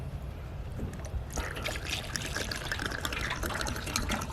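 Fuel pours steadily into the tank of a John Deere 410 zero turn mower, a continuous liquid splash and trickle that grows busier partway through, close up and moderately quiet.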